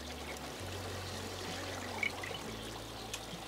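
Pineapple juice pouring into a container for an Easter brunch punch, a steady close trickle and stream of liquid running for several seconds without talk.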